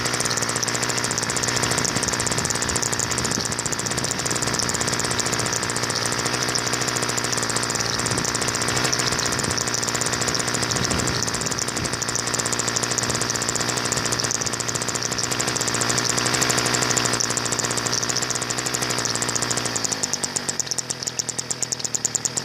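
A small engine runs steadily at high, buzzing revs with oil feeding into it and throttle held open for over twenty seconds, loud and close with no talking, easing slightly near the end.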